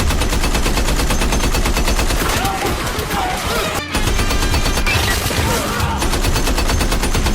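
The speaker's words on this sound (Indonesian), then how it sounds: "dan tembakan pun diluncurkan" Sustained, rapid machine-gun fire in a war scene of soldiers attacking North Korean troops, dense overlapping bursts that stay loud and close with a brief pause midway.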